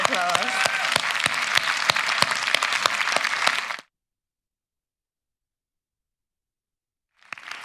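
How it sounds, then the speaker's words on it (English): Loud audience applause at a youth suicide prevention conference, dense clapping for about four seconds before cutting to silence, then starting again briefly at the end. "massive round of applause."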